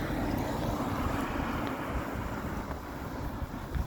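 Cold December wind blows steadily across a city street on a winter walk, a broad continuous rushing roar buffeting the microphone for the whole stretch.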